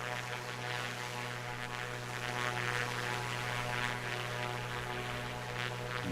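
A2A Piper Comanche propeller aircraft in a flight simulator, its engine droning steadily with a strong low harmonic hum and a broad airy roar, continuous and unchanging throughout.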